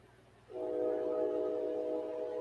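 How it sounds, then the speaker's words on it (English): A steam train whistle sounds from a distance, starting abruptly and holding one steady, loud, chord-like tone for about two seconds. "Steam whistle."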